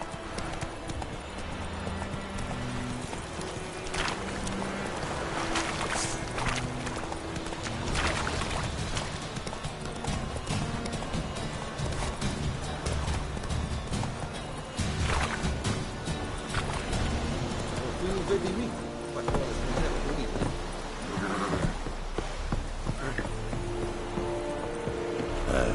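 Horse galloping in The Witcher 3: Wild Hunt, a steady rhythmic clip-clop of hooves running for the whole stretch, with ambient game sounds behind it.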